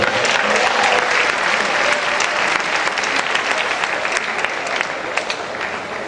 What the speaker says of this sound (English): I believe that Professor Agbonifo deserves another round of applause.